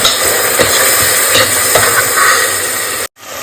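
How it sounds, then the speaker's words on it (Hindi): Spice masala frying and being stirred in a pan for soybean egg biryani, a steady loud sizzle with scraping stir strokes, cutting off abruptly near the end. "अब इसको अच्छे से मसाले को हम भून लेंगे"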